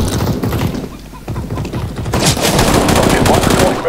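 Counter-Strike deathmatch gunfire, rapid automatic shots and bursts, loud and close, with a brief lull before heavier firing resumes; someone talks underneath.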